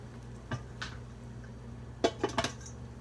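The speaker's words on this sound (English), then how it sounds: "I'm gonna cover it with the lid and steamer" A lid set onto a rice steamer pot while reheating sticky rice, a few light metallic clinks and taps, one early and a quick cluster of clatters later, close and fairly quiet.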